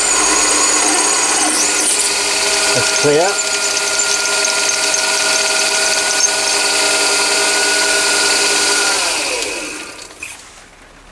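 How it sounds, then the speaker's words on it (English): A mini lathe cross drilling side holes through an adaptor for a Myford ML7 gives a loud, steady whine with shifting pitch for most of the run, then winds down near the end, with a brief spoken remark. "Drill through."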